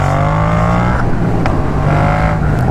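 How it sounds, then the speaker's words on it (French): A Yamaha MT-07 motorcycle engine revs close by, with rising and falling pitch sweeps as it accelerates and eases off, loud and continuous with no talking. "on va pouvoir s'entraîner à lever aussi avec cette petite moto"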